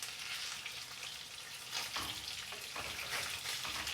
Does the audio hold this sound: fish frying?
yes